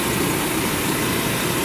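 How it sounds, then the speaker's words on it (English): A locked-up AC compressor with an over-amping fault labours to run, producing a loud, steady, dense hum and rumble with no break across the short stretch. "I could get it to run for maybe 15-20 seconds and then it would throw the breaker"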